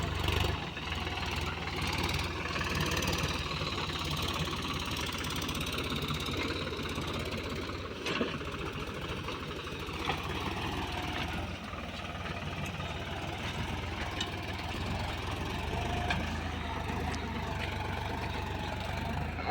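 A Swaraj 742 tractor engine idles on a farm, a steady mid-to-low mechanical drone with a faint knocking texture, running continuously at moderate distance.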